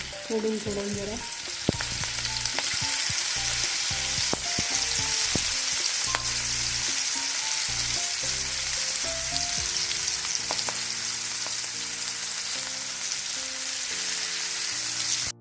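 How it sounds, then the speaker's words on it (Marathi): Small balls of oyster mixture fry in hot oil, a dense, steady sizzle and crackle that fills the whole stretch, close and loud with occasional light clinks and no talking. "हे असे थोडे थोडे तळून घ्यायचे"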